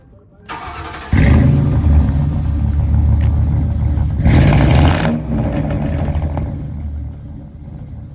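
A car nicknamed Mater cranks and fires up close, then its engine revs loudly twice in heavy, rumbling bursts before settling into a steady idle.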